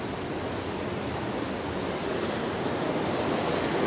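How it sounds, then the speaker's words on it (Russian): A small river rushes through Freiburg city centre past houses standing in the water, a steady, even wash of noise with no voices. "вода шумит"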